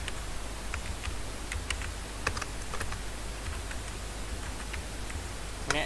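A website address is typed on a computer keyboard: quiet, irregular key clicks and taps in short bursts against a steady low background hiss, with no talking.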